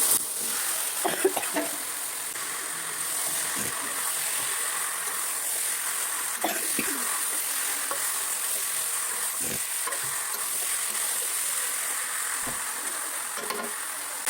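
Potatoes and green jackfruit fry in a pan of spiced masala, giving a steady, close, hissing sizzle throughout with a few soft scrapes of stirring and no talking.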